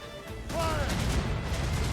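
Ship cannons fire in the game Assassin's Creed Rogue, making a heavy crashing roar that swells and holds loudly through the clip, with a brief voice heard over it.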